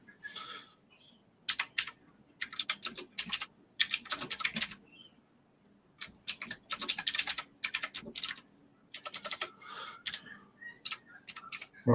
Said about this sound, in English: Hang on, mate. I'm just typing off to Jim.